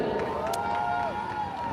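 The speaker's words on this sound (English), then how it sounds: "A lot of people cheering" A crowd cheers at a carnival Kings and Queens show, a steady wash of voices and shouts with a rising whistle-like tone in the middle, fairly close and continuous throughout.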